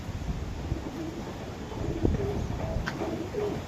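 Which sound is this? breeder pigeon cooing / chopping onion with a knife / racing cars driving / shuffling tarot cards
breeder pigeon cooing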